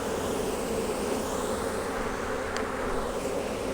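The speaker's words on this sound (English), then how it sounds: "Herding bees." Honey bees drone steadily around an open hive during a beekeeping inspection, a dense, continuous buzzing swarm close by with no break.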